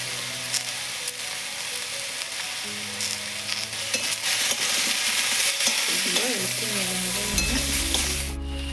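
Chili powder and turmeric frying in a pan for a homestyle Bengali sukto give a constant, moderately loud sizzle with occasional stirring scrapes, steady throughout.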